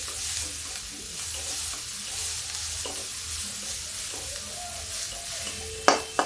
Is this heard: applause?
no